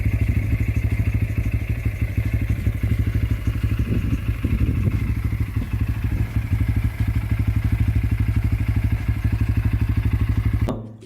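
A Bajaj Pulsar N160 motorcycle runs with a sporty exhaust note, a steady rapid pulsing that stays loud and close throughout before cutting off abruptly at the end.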